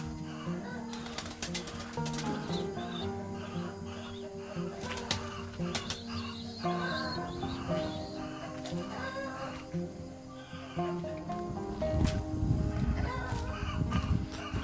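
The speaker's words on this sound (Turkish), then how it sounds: "güvercinler, kuşlar, tavuklar, horozlar" Chickens cluck and pigeons coo close by at a campground in Döşemealtı, Antalya, with roosters among them, a busy mix of poultry and bird calls over a constant background murmur.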